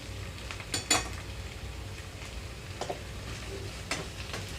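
Ivy gourd and tomato pieces fry in a pan with a constant close sizzle. Scattered clinks and scrapes of a utensil against the pan break through the crackle now and then.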